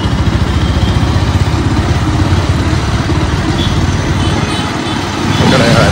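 A vehicle engine rumbles steadily as it drives slowly through traffic near a tunnel, a low, continuous, close drone with rapid pulsing throughout.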